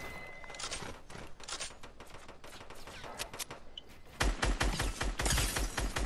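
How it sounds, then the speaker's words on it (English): Rapid bursts of video game gunfire from a squad match, dense and continuous, growing louder and heavier in the last two seconds. "I'm wasting all my freaking ammo"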